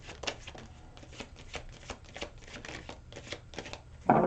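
A deck of tarot cards is shuffled by hand in quick, rhythmic bursts of papery riffling and flicking, close and fairly quiet, ending with a sharper handling sound.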